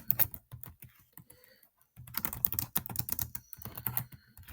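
Someone types on a computer keyboard, producing quick, close, irregular keystroke clicks in two bursts separated by a short pause.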